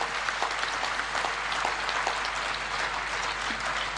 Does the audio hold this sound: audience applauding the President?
yes